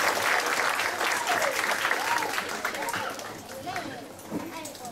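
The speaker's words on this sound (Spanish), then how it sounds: "Vamos a darles un aplauso a sus papás." Audience applause at a graduation ceremony for a Latino workforce development academy, honoring the graduates' parents: steady, dense clapping from a large crowd throughout, fairly loud with some voices faintly mixed in.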